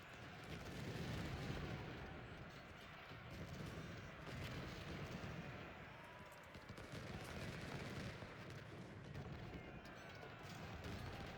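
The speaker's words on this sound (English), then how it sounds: "these guys will slowly start marching and shooting" Massed musket volleys and marching troops from Ultimate General: Civil War, a dense rolling crackle of gunfire with swelling bursts that continues throughout at moderate volume.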